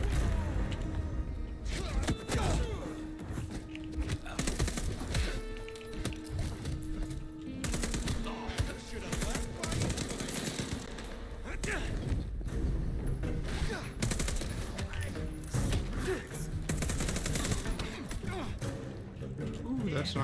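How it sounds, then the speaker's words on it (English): Assault rifle fire from the video game Bloodlines 2 comes as dense, continuous rattling bursts mixed with thuds and game sounds, with an excited voice talking over it. "Dude, the fucking assault rifles."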